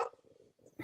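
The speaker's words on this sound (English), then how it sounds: "Sorry about my dogs." Pet dogs bark indoors in a quick burst of a few short, sharp barks close by, with a small whimpering yip between them.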